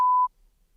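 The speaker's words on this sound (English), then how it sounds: "We'll beep it out, so you can do." A single steady censor bleep tone, loud and clean, covers a swear word for about a quarter second, then cuts to near silence.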